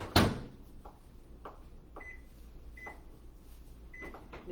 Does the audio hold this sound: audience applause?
no